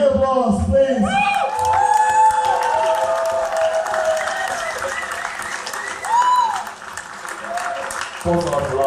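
A crowd at a demoscene presentation bursts into loud applause mixed with cheers, whoops and shouts, sustained for several seconds close up and fading toward the end.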